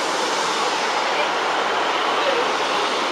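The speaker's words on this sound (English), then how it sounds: "here comes 153326 on your 1434 service to Crewe for East Mids" A British Rail Class 153 diesel unit, 153326, arrives at Stoke-on-Trent station, a steady, loud broadband rumble and rush with no distinct clacks, the train close by throughout.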